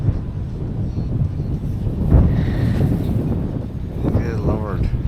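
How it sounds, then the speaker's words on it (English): Heavy, gusting wind buffets the microphone during a short flight of a Goosky S1 RC helicopter, a steady roaring rush with a faint whine above it and a voice speaking over it. "it's super heavy wind."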